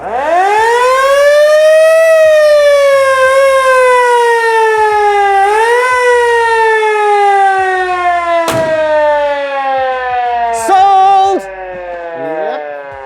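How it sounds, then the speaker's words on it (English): An old-fashioned motor siren on a small fire truck, worked by a floor pedal, wails loudly and close, its pitch sliding down and rising again in repeated sweeps before winding down, with brief voices mixed in. "So this is the old-fashioned siren."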